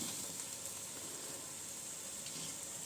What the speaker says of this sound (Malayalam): ഇഞ്ചി മാങ്ങ ഇട്ട് നമുക്ക് ഇവനെ മുഴുവൻ വഴറ്റിയെടുക്കണം